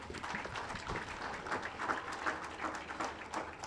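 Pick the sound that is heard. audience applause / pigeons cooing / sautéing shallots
audience applause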